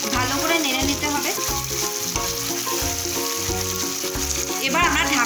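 Barbecue chicken with about two spoons of honey stirred in a hot frying pan, a loud continuous sizzle and frying crackle with scraping stir strokes throughout, up close.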